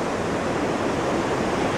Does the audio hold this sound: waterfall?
yes